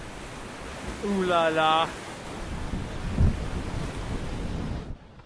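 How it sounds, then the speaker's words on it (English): Wind roars steadily across a sailboat at sea as a storm builds, a constant broad rushing noise with a brief low thump midway, while a man briefly exclaims over it. "the wind's changed direction"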